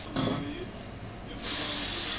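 A spray can hissing during variator maintenance on a Honda Forza 250 scooter, with a short burst followed by a loud, steady close spray that runs to the end.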